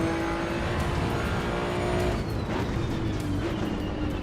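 A car engine drones at a steady pitch during a racing video game, holding a continuous tone that shifts slightly in pitch near the end, fairly loud with no talk over it.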